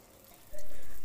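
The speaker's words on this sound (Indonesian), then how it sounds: "Nah, ini yang akan aku goreng dengan minyak panas." Sticky rice cake (uli ketan) drops into hot oil and starts frying, a sudden steady hiss and sizzle rising midway and holding loud and close.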